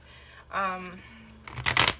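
A deck of tarot cards is shuffled in two quick riffling bursts, near and brief, with a short stretch of talking between them.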